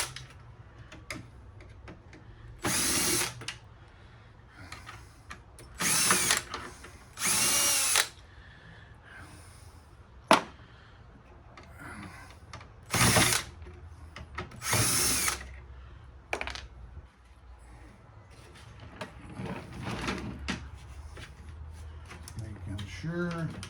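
A power drill backs screws out of an old air-conditioning unit being taken apart: several short, loud whirring bursts spread across the stretch, with quieter clicks, handling noise and occasional talk between them.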